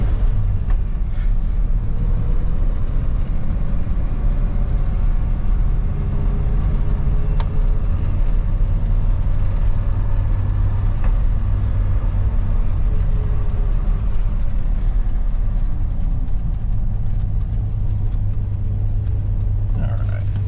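A 1985 Chevrolet Suburban Squarebody with an NV4500 gearbox drives on the way to work, its engine giving a loud, steady low drone heard from inside the cab with no break.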